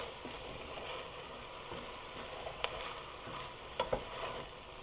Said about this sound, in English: Go ahead and add our zucchini. And go ahead and stir that up.